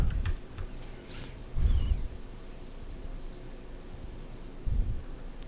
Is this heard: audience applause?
no